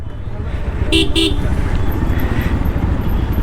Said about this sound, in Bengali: please here the crowd